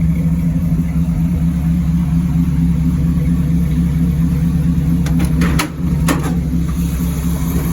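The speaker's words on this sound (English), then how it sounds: "Nice sounding exhaust" A 1953 Chevy 3100 pickup with a small-block 350 V8 rumbling through dual side exhaust, a loud, steady low idle with a brief throttle blip partway through.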